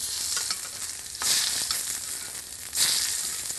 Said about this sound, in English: Just keep basting.